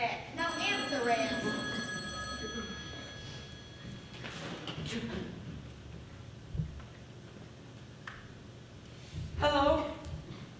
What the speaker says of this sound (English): Virgil, the phone's ringing.